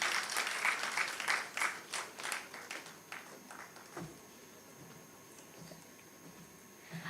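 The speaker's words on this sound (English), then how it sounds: "Please give a big round of applause for our moderator for this session." Audience applause at an English language teachers' conference session fills the first few seconds, loud and sustained, then thins out and fades to a quiet room.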